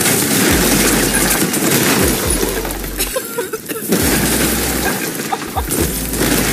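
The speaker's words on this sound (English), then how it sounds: "They're shooting at us." Loud, dense video-game gunfire during a ship ramming battle in a pirate galleon game: rapid overlapping shots and booming blasts filling the whole stretch, with a brief lull midway.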